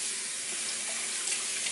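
Cold tap water runs steadily into a kitchen sink while beef bones for Vietnamese pho are rinsed clean, a continuous close hiss and splash with no talking.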